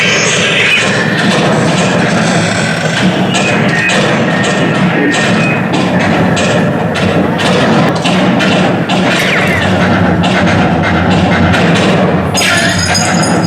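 Guns firing at the Frontierland Shooting Arcade in Disney World, loud repeated sharp pops and thuds in quick irregular bursts over a busy, noisy park background.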